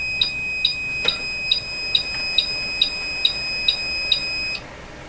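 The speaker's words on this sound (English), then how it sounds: "The power supply will beep if the load goes too high" A DC power supply in a vacuum tube testing setup beeps in a steady series of about ten loud, sharp electronic tones, evenly spaced, then stops abruptly.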